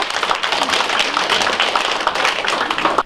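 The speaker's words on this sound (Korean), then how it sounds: "힘찬 박수로 시작하겠습니다." A crowd of residents claps loudly and steadily at the opening of an urban regeneration ideas festival, a continuous close wash of many hands with no break.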